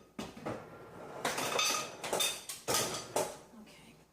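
Ice cubes dropped into a blender for a pumpkin spice smoothie: a handful of sharp clattering knocks and rattles against the jar, several bursts close together, loud and near with a quiet background.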